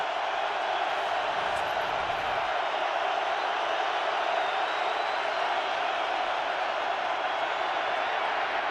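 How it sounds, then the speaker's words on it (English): A packed football stadium crowd at Qwest Field in Seattle roars through an NFC Championship game: a steady, dense wall of distant cheering that holds at an even level throughout. "NFC Championship, and that crowd takes over again."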